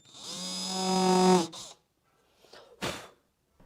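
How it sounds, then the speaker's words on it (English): A power drill bores a hole in a wooden board, giving a high whine that builds for about a second and a half before stopping. A short second burst follows, in a quiet room with no talk. "Now let's drill a hole for the installation of the rectifier."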